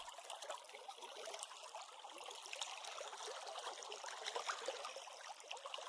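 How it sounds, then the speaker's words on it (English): Water flows steadily under a bridge in the visual novel game Doki Doki Epiphany, a faint, continuous trickling stream with no other sounds. "As we step onto the bridge, the sound of water greets us."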